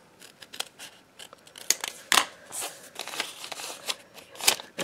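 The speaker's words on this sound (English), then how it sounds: "So right now I can use scissors" Scissors snip through paper in a series of short, crisp cuts with irregular pauses, close and fairly quiet.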